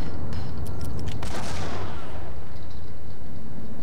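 A grenade goes off in the shooter game Max Payne, a loud burst of noise with a short crackle that fades into a lingering rumble.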